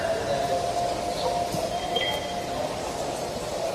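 A passenger train rolls steadily past in a metro rail setting, a continuous rumble with a faint tonal whine and a light clink, fairly close and loud throughout, with indistinct voices murmuring underneath.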